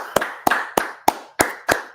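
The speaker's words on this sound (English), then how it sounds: "let's clap it up" Hands clap in a slow, regular rhythm, about six sharp claps spaced roughly a third of a second apart, loud and close at an outdoor gathering in Washington DC.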